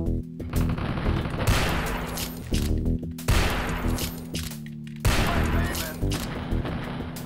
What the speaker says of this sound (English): He actually took three rifle shots, that's crazy.